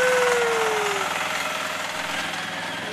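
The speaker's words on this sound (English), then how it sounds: "And now we've got Grandpa and Taylor on the lawnmower playing." A lawn mower engine runs steadily, loud and close, with a rough, continuous drone that lasts the whole stretch and has no pauses.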